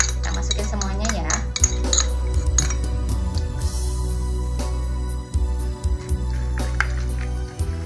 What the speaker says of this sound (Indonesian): Kita aduk-aduk dulu ya bumbunya biar si ayamnya ini meresap bumbunya ke dalam ayamnya